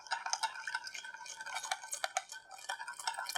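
Rice vinegar, sugar and salt stirred together in a small bowl, light quick ticking clinks of a utensil against the bowl in a rapid, faint patter.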